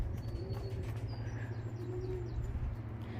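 Young pigeons cooing, soft low repeated coos over a steady outdoor background, with a few faint higher chirps; moderately close and unaccompanied by talk.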